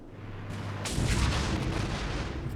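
Close air support strike in the war game Armored Brigade: a deep, rumbling blast swells in after a low drone and rolls on as a heavy, sustained roar, loud and close, with no voices.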